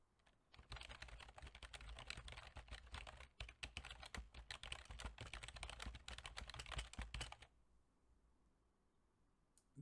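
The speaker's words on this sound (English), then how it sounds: "First I'm gonna type with the keyboard in front of the microphone." Rapid, dense clacking of keys typed on a computer keyboard placed in front of a Razer Seiren Mini microphone, continuous for several seconds, then stopping into quiet.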